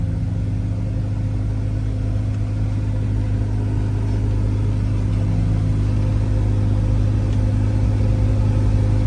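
A 2005 Jeep Wrangler TJ Rubicon with 4.10 gears and 33-inch tires pulls from a dead stop in second gear, its engine giving a steady low rumble close by with no talking.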